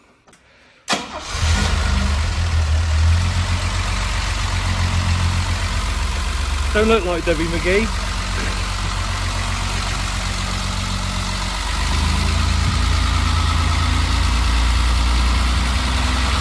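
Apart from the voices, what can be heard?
1968 Mercedes-Benz W108 280 SE straight six engine idling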